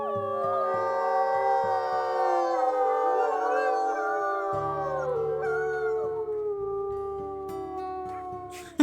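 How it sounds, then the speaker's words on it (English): Wolves in the video game WolfQuest howl together in a long, layered chorus of rising and falling tones, several voices overlapping near and loud, with a low pulsing game soundtrack underneath. "Let's go ahead and do our morning howl."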